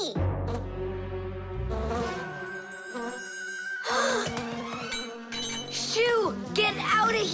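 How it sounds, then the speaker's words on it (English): A cartoon bee buzzes in a whiny, wavering drone that comes and goes over several seconds, mixed with music and animated character voices. "Oh, a bee!"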